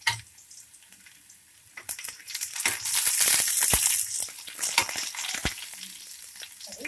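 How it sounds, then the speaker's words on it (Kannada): Garlic dropped into hot oil in a pan for a Kannada-style country chicken curry, starting as a quiet sizzle that swells into a loud crackling fry with scattered stirring clinks and pops. "ಎಣ್ಣೆ ಕಾದಿದೆ. ಈಗ ಬೆಳ್ಳುಳ್ಳಿ ಹಾಕ್ಕೊಳ್ಳಿ. ಬೆಳ್ಳುಳ್ಳಿ ಸ್ವಲ್ಪ ಫ್ರೈ ಆಗಲಿ."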